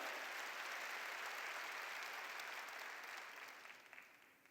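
A church congregation at a New Year revival service claps together, producing dense, steady applause that fades out toward the end without talk over it.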